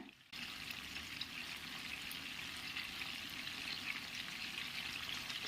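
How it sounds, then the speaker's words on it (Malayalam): Chicken fries in spiced masala oil in a pan, a steady, fairly soft sizzle that starts suddenly after a brief pause and crackles evenly to the end. "ഇനി നമ്മൾ എടുത്ത് വെച്ചേക്കുന്ന ചിക്കൻ ഇതിലേക്ക് ഇട്ട് കൊടുക്കാം"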